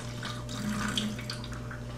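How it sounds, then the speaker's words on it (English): Half a cup of water poured into a homemade volcano model, a steady close trickle and splash lasting about two seconds over a low constant hum. "Half a cup of water, pour it in for me, Claire."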